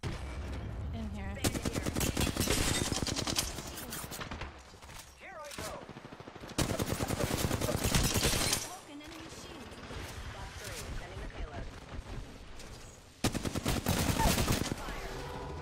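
Bursts of automatic gunfire in Apex Legends come in three loud, dense volleys separated by quieter stretches of game noise, with voices talking in between.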